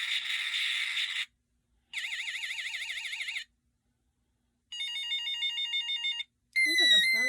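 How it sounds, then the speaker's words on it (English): A toy laser gun plays electronic ringtone-like warbles in separate bursts, each a different tone pattern separated by short silences, ending with a sweeping zap effect. "Sounds like a phone ringing."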